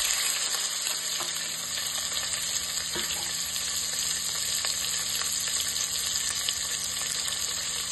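Onions, green chillies and whole spices frying in oil and ghee in a pot for egg biryani, a dense steady sizzle close by with a few faint clinks, no talking.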